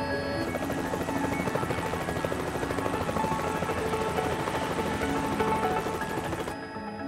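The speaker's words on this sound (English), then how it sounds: "The helicopter must now travel the 140-mile journey to Barra, where Jean will then be transferred to her" An air ambulance helicopter departs from an airfield runway, its rotor thudding loud and steady with a dense engine whine throughout, cutting off abruptly at the end.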